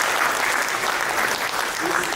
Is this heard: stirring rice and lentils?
no